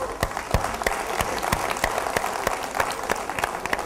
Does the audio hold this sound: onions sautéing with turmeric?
no